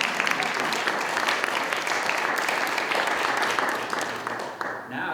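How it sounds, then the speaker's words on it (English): Audience applause at an afternoon art museum gallery talk, a steady dense patter of many hands clapping for several seconds before tapering off at the end. "Did we already clap?"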